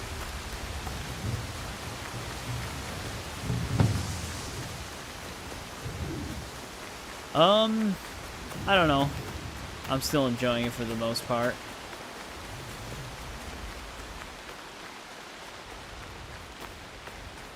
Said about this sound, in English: Oh, is the rain letting up?